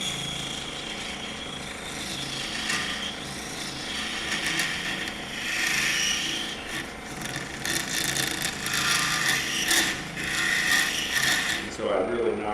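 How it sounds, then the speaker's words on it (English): A hand side-cutting tool shaves inside the mortise of a wooden threaded box with a maple top, making a steady close scraping and rasping that runs throughout and swells in the second half. "this is a side cutting tool. You put it up against the side of it on the inside of your mortise and nice straight cut"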